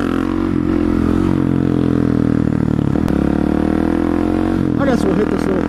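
A supermoto motorcycle rides a twisty road, its engine droning steadily and loudly with rising and falling revs and wind rush throughout, plus a couple of brief clatters and scrapes near the end.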